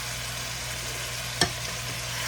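Asparagus sautés in a pan with a low, steady sizzle, broken once by a brief sharp click or tap midway through, and no talking.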